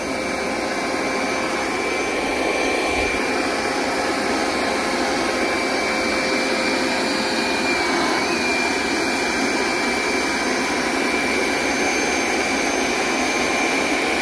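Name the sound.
Hoover SmartWash Pet Complete automatic carpet cleaner running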